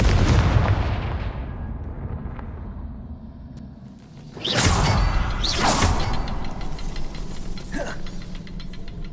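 A Confringo blasting spell is cast in Hogwarts Legacy, giving two loud, sharp bursts in quick succession over a steady low rumble of game ambience.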